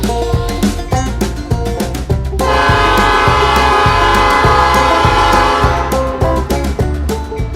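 Reading & Northern 2102 steam locomotive sounds its horn in a sustained blast while departing a station on the Lehigh Gorge Scenic Railway, with heavy rhythmic rumbling and clanking of rolling wheels close by.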